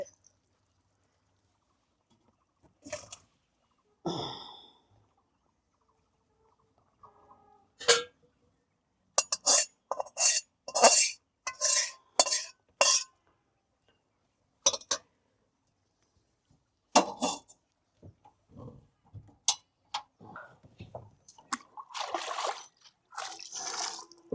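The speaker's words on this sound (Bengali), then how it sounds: "কড়াই পরিষ্কার করে রাখতেছেন না?" Metal and dish clinks with splashing water as a kadai and dishes are scrubbed clean, intermittent clatters and drips separated by quiet pauses, close and fairly faint.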